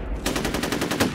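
Rapid automatic gunfire in the FEAR Combat video game, a quick burst of about eight evenly spaced sharp shots at moderate loudness, with no talk.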